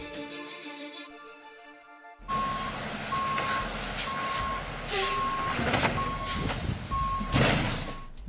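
A salt truck reversing on icy roads sounds a steady series of loud, evenly spaced backup beeps over a low engine rumble, with a brief hiss like an air brake partway through.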